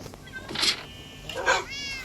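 A Minecraft cat lets out two distinct meows spaced about a second apart, clear and close over a quiet game background, with no talk.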